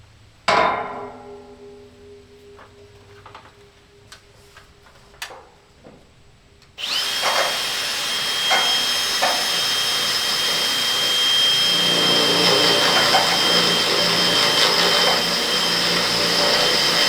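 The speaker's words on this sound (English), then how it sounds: "So I'll tighten this bolt up" A few scattered clanks of hardware on a solar carport build come first, then a power tool tightening a bolt kicks in and runs loud and continuous, close up, for the rest of the clip.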